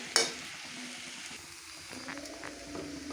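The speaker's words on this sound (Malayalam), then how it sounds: "അപ്പോൾ ഇതെല്ലാം റെഡി ആയിട്ടുണ്ട് നല്ലപോലെ ഒന്ന് ഇളക്കിയെടുക്കട്ടെ" A raw papaya stir-fry with coconut is stirred in a pan, giving soft scraping and shuffling with a sharp clink near the start and a faint sizzle underneath.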